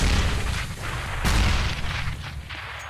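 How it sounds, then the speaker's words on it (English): Several heavy grenade blasts in the video game Counter-Strike, a deep rumbling boom near the start and a sharper one in the middle, with further thuds fading out over constant low background noise. "So many grenades coming in at Roix."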